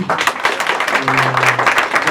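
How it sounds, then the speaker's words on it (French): A short burst of applause from an audience at the Catholic University of Central Africa greets footballer Alex Song, brisk claps layered densely and close. "je demande qu'on l'applaudisse aussi"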